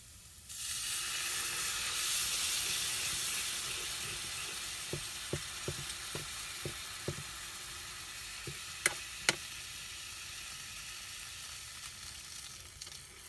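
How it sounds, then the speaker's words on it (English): Flour and milk cook in a small 6-inch electric mini skillet with a low, steady sizzle and hiss, a quiet series of light taps near the middle and two sharper clicks after, no talking. "I'm going to let that flour cook. Now I'm going to add some milk to it a little at a time."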